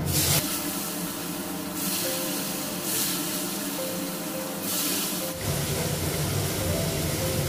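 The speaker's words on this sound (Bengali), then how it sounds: "তেল দিয়ে দিলাম, হলুদ দিলাম, মাছটা দিলাম" Fish frying in oil with turmeric in a pan gives a steady loud sizzling hiss throughout, swelling in a few broad surges, with no voices over it.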